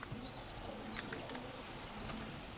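Fighting pigeons in a loft give soft, low cooing calls that come and go over a busy, noisy background, faint and scattered rather than prominent.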